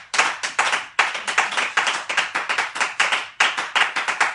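A church congregation claps together in acclamation, loud close clapping in quick bursts with short pauses between them.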